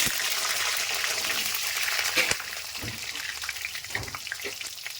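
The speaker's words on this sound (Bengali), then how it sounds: "আলুগুলো ভেজে নেব" Potatoes frying in oil in a kadai, a loud dense sizzle that eases after a sharp clatter midway, followed by uneven bubbling and a few soft knocks.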